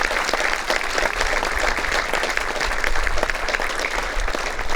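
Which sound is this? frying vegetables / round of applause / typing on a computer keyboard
round of applause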